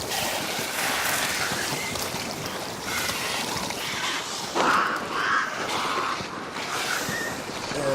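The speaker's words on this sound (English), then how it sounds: "to my left, as you can see, crows" Crows caw in short, repeated bursts against a steady wash of water and ambient noise in a quiet video game scene, with clearer calls around the middle of the stretch.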